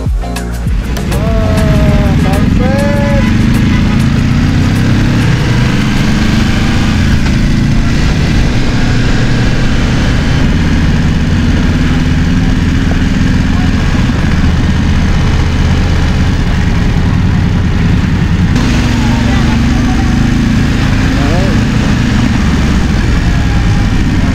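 Groups of motorcycles pass on a narrow road to Balete Baywalk, with a loud, continuous engine drone and rumble close by that swells and fades slightly as riders go past, alongside a few four-wheel vehicles.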